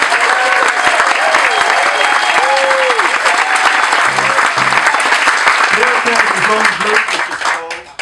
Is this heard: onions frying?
no